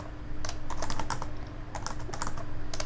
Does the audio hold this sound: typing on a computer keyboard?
yes